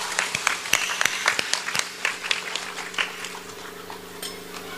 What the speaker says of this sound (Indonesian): tepuk tangan dulu buat wong Depok